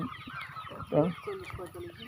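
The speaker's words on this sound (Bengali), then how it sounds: "বিশাল বড় আকারের একটি মুরগি ফার্ম আপনারা দেখুন" Chickens cluck and murmur close by in a busy, overlapping chorus on a large poultry farm, with one louder squawk rising briefly in the middle.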